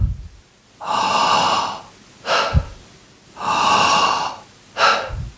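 Deep breathing in a breathwork exercise, two cycles of a long airy inhale followed by a short, relaxed exhale out through the mouth, close and clear with no talk.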